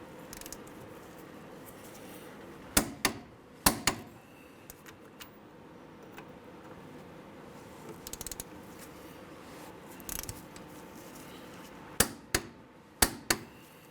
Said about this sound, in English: we're going to torque our caliper bolts down to 79 foot-pounds